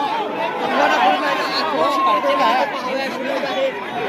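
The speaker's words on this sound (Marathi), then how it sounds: "नागरिकांनी एकच गर्दी केली आहे हंगामा करत" A crowd of citizens gathered outside over a former mayor's matter, a dense, continuous commotion of many overlapping voices shouting and chattering, loud and close throughout.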